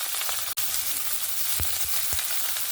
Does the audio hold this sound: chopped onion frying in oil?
yes